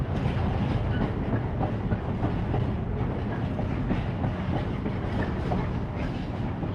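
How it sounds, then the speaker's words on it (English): A big, massive train rolls past nearby with a dense, steady rumble and faint clickety-clack of wheels, continuous and loud throughout. "That is a big old massive train going by, isn't it?"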